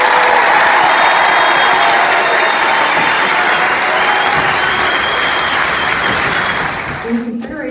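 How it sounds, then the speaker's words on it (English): Sustained loud applause from an audience in the bleachers at an Army National Guard basic training graduation, dense clapping steady for several seconds before thinning out at the end. "please join me in a round of applause for our newest Army soldiers."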